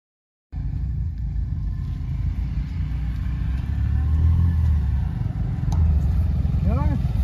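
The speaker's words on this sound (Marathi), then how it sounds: "वाटतं ते गाड्याचा आवाज येतो" A vehicle engine rumbles steadily in the distance, drawing nearer, with a low continuous drone that grows slightly louder midway as it arrives; a brief voice-like tone rises near the end.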